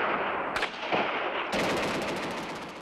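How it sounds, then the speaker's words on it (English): Machine gun fire at the Iran-Afghanistan border, with rapid sustained bursts of automatic shots, loud and harsh, starting and shifting in intensity across the stretch, with no talk. "along with machine gun fire."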